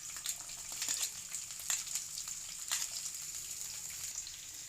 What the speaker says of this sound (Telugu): ఆయిల్ హీట్ అయిన తర్వాత నానబెట్టుకున్న పచ్చి బఠానీ గ్రీన్ చిల్లీస్